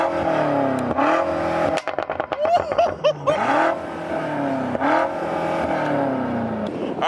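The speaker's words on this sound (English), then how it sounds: "rev it up for me real quick in sport mode" A BMW M5 F90 in sport mode revs hard close by, its engine climbing and falling through several sharp blips and sustained high-pitched pulls in quick succession.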